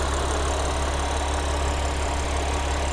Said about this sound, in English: here's the 3-liter V6 supercharged engine